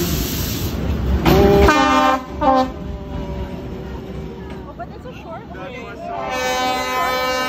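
A train rolls through Hanoi's narrow Train Street between houses, with a loud horn blast, rumbling wheels and squealing tones. Onlookers talk and call out over the passing train.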